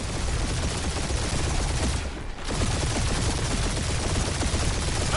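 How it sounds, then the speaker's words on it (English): Gunfire in the Guardians of the Galaxy video game on PS4, a continuous loud barrage of rapid shots and blasts with a brief dip partway through, filling the whole stretch. "Great shot, Peter"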